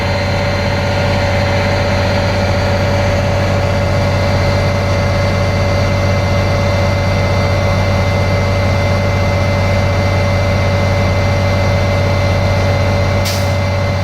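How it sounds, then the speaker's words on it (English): A truck's air compressor pumps steadily beside an idling diesel engine, a loud constant low throb and hum holding throughout, with a brief hiss of air near the end as the governor cuts out. "we're going to check to see the governor cut out, so the air compressor will stop pumping air to the tanks"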